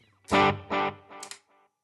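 A Fractal AX8 guitar processor: two loud distorted guitar chords with delay and reverb, then a third brighter strum, each followed by echoing trails that carry on and fade after the effect is bypassed.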